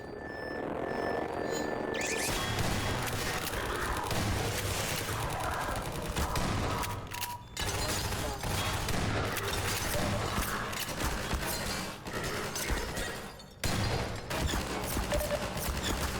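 Automatic turret fire in Half-Life 2, dense sustained bursts of gunfire mixed with mechanical clatter and crashes, loud and continuous with brief pauses.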